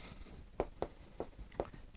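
Pen or pencil writing an answer by hand on paper during a class 6 maths lesson, a few scratchy strokes and taps spaced irregularly, close and soft with faint background hiss.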